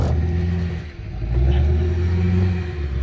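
A truck engine rumbling steadily as it creeps forward slowly near a dumpster, a low continuous idle-like drone with slight swells, close and loud, no voices.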